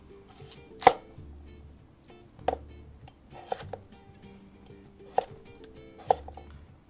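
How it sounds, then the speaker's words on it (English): A knife chops potatoes into small cubes on a cutting board, five or six sharp, close knocks spaced unevenly about a second apart, with faint handling sounds between. "the potatoes, basically I'm just going to cut them into small cubes"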